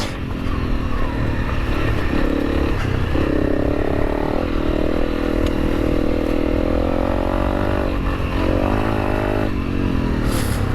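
A Honda CRF300L motorcycle rides out on a rural track, its single-cylinder engine droning steadily with throttle swells and gear changes, close and loud under wind and clatter.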